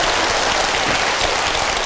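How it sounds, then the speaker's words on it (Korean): An audience bursts into dense, steady applause, many hands clapping together in a short, loud burst with no voices over it. "내 생각에는 박수는 안 쳐셔도 될 것 같은데"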